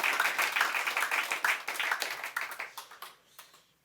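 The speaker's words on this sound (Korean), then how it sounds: "기왕이면 박수 좀 크게 쳐주시면 더 좋겠습니다" A church congregation claps together at a thanksgiving service, steady dense applause that holds for a few seconds and then tapers off with a few last claps.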